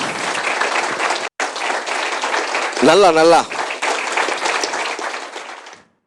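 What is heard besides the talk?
audience applauding at Sathiyam TV anniversary celebration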